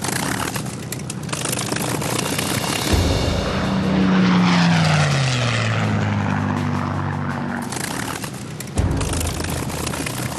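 Supermarine Spitfire fighter with its 12-cylinder, 27-litre Rolls-Royce Merlin engine flies past, a loud propeller drone swelling and falling in pitch as it passes close, alone without talk.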